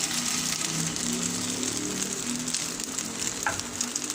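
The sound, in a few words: chicken frying in a hot pan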